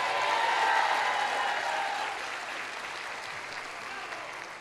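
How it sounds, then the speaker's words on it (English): Commencement audience at Bronx Community College applauding the faculty, a broad wash of many hands clapping that starts full and gradually thins and softens, heard from a distance in a large hall. "Can you please join me in saying thank you and giving the faculty a round of applause?"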